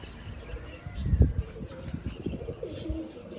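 Low, soft pigeon coos repeat close by, with faint chirps and some background murmur.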